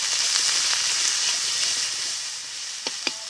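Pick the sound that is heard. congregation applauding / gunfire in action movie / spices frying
spices frying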